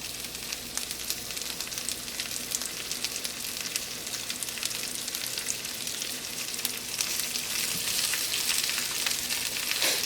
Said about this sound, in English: we're gonna add our cauliflower steak